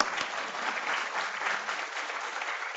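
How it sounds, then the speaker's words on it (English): Audience applause at an entrepreneurship day event, a dense even wash of clapping from a crowd, heard steadily at moderate volume from some distance with no voices over it. "One more round of applause for us."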